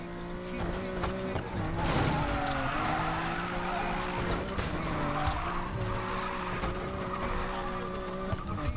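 Car drifting in Need for Speed: Payback, with a steady engine drone and long, wavering tire squeal that holds for several seconds across the whole stretch.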